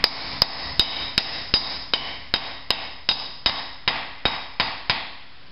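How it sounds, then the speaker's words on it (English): A hammer drives a 24mm socket against a bearing outer race on a Toyota pickup during a clutch job: about fourteen sharp, evenly spaced metallic taps, close and clear, with nothing else heard. "Be careful only to tap on the outside race."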